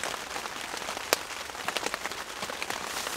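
Rain patters steadily on a tarp shelter at a bushcraft overnight camp, a dense close crackle of drops with one sharp louder hit, heard alone without talk.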